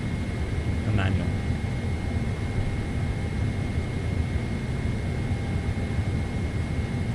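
Steady, even engine roar of a PMDG 777 airliner using the Boris Audioworks engine sound set in MSFS 2024, a constant broadband hum with a faint tonal whine, continuous through the whole stretch with a brief blip near the start.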